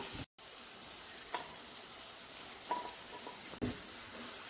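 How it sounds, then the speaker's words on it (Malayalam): Chopped parotta is tossed and stir-fried with scrambled egg in a pan, a faint steady sizzle with occasional soft scrapes and taps, quiet and without talk. "ഇനി നമുക്കിതിലേക്ക് പൊറോട്ട നമ്മൾ അരിഞ്ഞു വെച്ചിരിക്കുന്ന പൊറോട്ട ചേർത്ത് കൊടുത്ത് മിക്സ് ചെയ്തെടുക്കാം"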